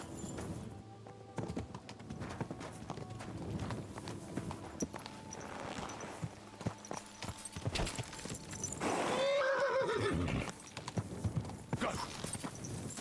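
Video game hooves clip-clop steadily, then a horse gives a loud, wavering neigh close by, followed by more plodding steps, in Kingdom Come: Deliverance 2.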